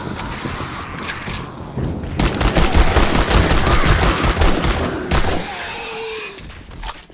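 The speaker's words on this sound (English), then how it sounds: "I'm just gonna shoot them for a little bit." Rapid bursts of gunfire in 7 Days to Die as zombies are shot, loud sustained volleys in the middle with quieter stretches before and after, and no talking.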